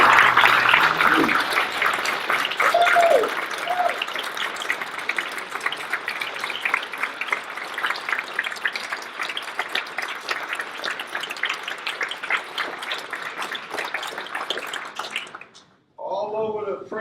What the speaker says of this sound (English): So let's give a great big standing ovation for Stevie D and the UK.